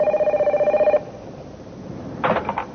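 A telephone bell rings in a rapid pulsing trill for about a second and then stops, leaving a quiet room where a soft voice comes in briefly near the end.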